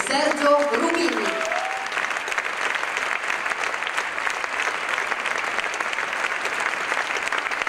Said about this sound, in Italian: applausi, Quintetto Atlantico e